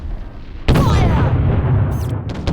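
A cannon broadside booms out in the naval combat of Treasure Planet: Battle at Procyon, one sudden loud blast followed by a long rumbling roar, with a couple of sharper reports near the end.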